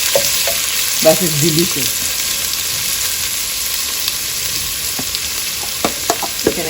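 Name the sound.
onions frying in a pan for chicken biryani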